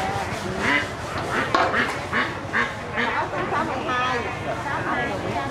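Ducks for sale at a rural Mekong Delta market quack in repeated nasal bursts amid a crowded, noisy background where people talk.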